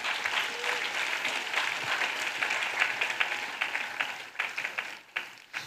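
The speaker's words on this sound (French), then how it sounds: "Acclamez. Clap." Sustained audience applause fills a large church gathering, dense clapping rolling steadily before thinning into scattered claps near the end.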